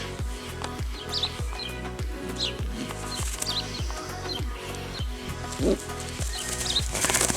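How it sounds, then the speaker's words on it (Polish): Rapid, repeated wing flaps from a pigeon close by, a fluttering rhythmic beating that continues throughout with faint chirps. "Gołąb bardzo żywotny"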